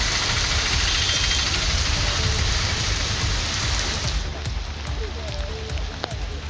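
Sudden, widespread evening rain falls as a dense, continuous hiss that holds steady throughout, easing slightly toward the end.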